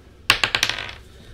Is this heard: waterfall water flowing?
no